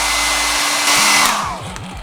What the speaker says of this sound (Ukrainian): починаємо прогрівати це все діло за допомогою фену.